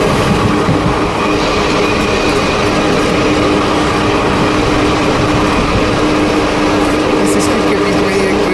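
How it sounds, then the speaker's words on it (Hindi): A 20402 shuttle superfast train on Indian Railways runs at about 65 km/h through Utraitia station, a steady loud rumble of wheels and rolling cars with faint rail clatter throughout. "ट्रेन हमारी लगभग 65 की रफ्तार से उतरेटिया रेलवे स्टेशन को स्किप कर रही है"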